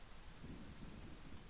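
Rain falling in the game Arcania Gothic 4: a steady, dense wash of rainfall with a low rumble of thunder underneath, quiet and continuous.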